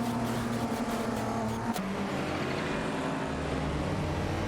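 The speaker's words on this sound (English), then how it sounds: "The battle between the Toyota Celica Supra and the Mazda MX-515 continues" A Toyota Celica Supra and a Mazda MX-515 race in an AI-driven racing game, their engines making a loud, steady, continuous roar with a drop in pitch partway through.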